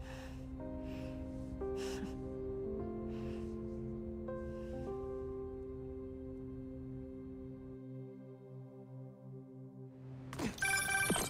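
A phone rings in the Spider-Man 2 video game as a steady, repeating electronic ringtone of sustained tones, fairly quiet, with faint breaths over it and a brief louder burst at the end.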